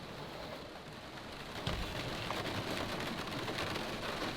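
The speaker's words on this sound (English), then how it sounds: "the rains are here and the rains are entering the Kombi" Rain falls steadily on and into a Kombi van, a dense broadband hiss with a sharp thump near the middle and slightly heavier patter afterward, no voices.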